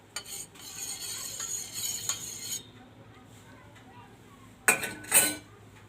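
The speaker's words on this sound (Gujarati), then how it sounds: "થોડીક છાશ આપણે હલાવી લઈશું।" A spoon stirs buttermilk in a glass with quick clinking strokes, close and fairly quiet, then pauses before a couple of sharper clinks.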